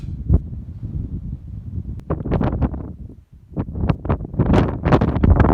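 Strong wind buffets the microphone in gusty bursts on a hill summit near Pitlochry in the Scottish Highlands, loud rumbling blasts rising and falling with a brief lull midway.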